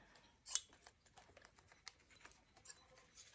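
Scissors snip through excess fabric while making a zippered clutch wallet, giving one sharp cut followed by a string of quieter, irregular snips, close and alone with no talk.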